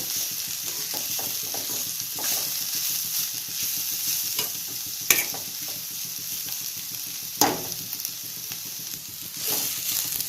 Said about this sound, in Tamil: இதை ஒரு 2 நிமிஷம் இந்த மாதிரி வதக்குங்க.